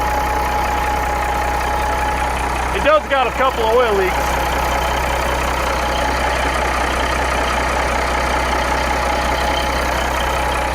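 An abandoned truck's engine idling steadily with a low, even rumble throughout, recorded up close, while someone talks briefly over it.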